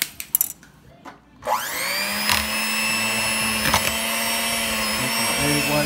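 Electric hand mixer starts up after a few brief clatters and runs steadily, beating egg white and butter for a cake batter with almond extract, a close, continuous whirring drone with a slight pitch wobble.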